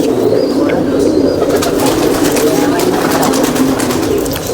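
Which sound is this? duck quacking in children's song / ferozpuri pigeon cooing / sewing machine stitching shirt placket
ferozpuri pigeon cooing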